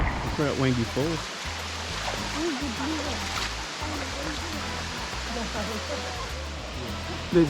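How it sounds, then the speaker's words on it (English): Wangi Falls waterfall with two small falls, a steady broadband rush of falling water heard at moderate distance, with people talking over it throughout. "There's two small falls going, one little one to the left"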